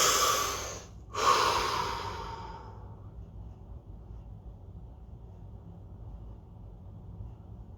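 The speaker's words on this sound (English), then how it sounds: "Deep breath." A single deep breath during a guided relaxation session: a strong, close inhale-exhale with a brief pause in the middle, fading into quiet room tone after a few seconds.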